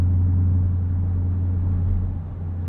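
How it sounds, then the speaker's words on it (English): Supercharged 720 hp V8 of a 2024 Ford F-150 Raptor R truck at 2,000 to 3,000 RPM, a steady low rumble holding at an even level throughout, close and loud, with no voices. "That low rumble with the underlying tone of the supercharger whine is just such a cool noise."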